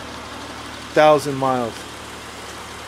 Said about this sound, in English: I want you to see how this engine purrs